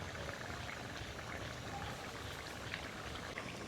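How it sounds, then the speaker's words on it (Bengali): Crab curry bubbles steadily in a pan over a village kitchen fire, a continuous soft rolling simmer with fine crackling pops, heard close and alone. "কাঁকড়ার তরকারিটা ফুটতিছে"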